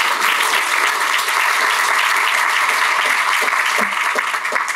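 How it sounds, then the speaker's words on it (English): An audience at a Chicago community meeting on school safety breaks into steady, loud applause, a dense clapping that fills the whole stretch without pause. "Can we get a round of applause for that?"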